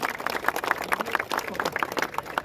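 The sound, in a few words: crowd applauding for Anuj at a festival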